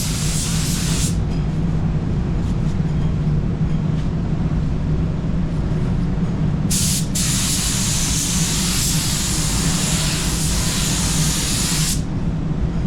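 A spray gun hisses in long continuous bursts of clear coat, starting and stopping, with a steady low mechanical hum underneath.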